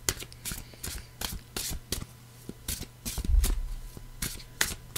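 A deck of cards is shuffled close by, with repeated quick riffling bursts and soft snaps at an uneven rhythm, while a voice speaks quietly in between.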